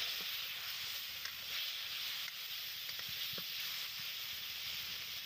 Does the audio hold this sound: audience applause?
no